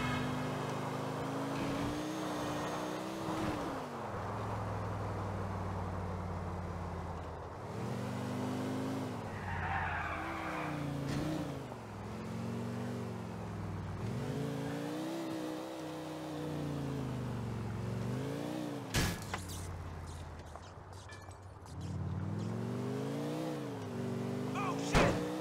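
Racing video game car driven around a track, its engine droning and revving continuously through gear changes, with repeated tire skids and squeals, loud and steady throughout.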